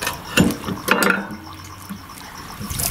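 Tap water running over a cleaned calamari body during rinsing: a splashy, gurgling stream close by, with wet handling splashes rising and falling over a few seconds.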